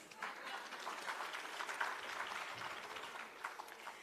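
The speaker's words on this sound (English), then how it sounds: "clap yourselves" Steady applause from a crowd at a conference award ceremony fills the room, a dense patter of many hands clapping at an even level throughout.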